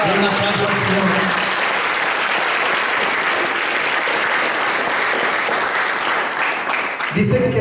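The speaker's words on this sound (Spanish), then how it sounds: "Un aplauso al Señor" A church congregation claps loudly and continuously for several seconds in a dense, sustained burst of applause; a voice and music are heard briefly at the start and again as it ends.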